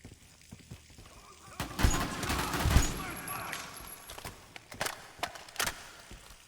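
AR-10 rifle gunfire in a video game, with several sharp shots spread through the clip among softer game noises and movement, moderately loud and close.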